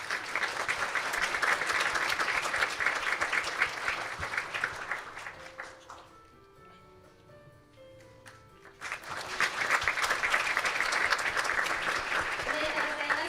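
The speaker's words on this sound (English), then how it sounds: "Once again, let us give them a big round of applause." Audience applause for award winners receiving plaques at a children's world peace summit, a loud sustained round of clapping that dips into a quieter gap with a voice speaking, then swells back to full applause.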